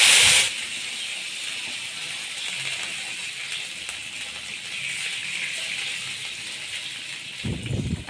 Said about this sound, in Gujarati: આ વઘાર બરાબર તતડે ને પછી આપણે એની અંદર પાણીનો વઘાર કરવાનો છે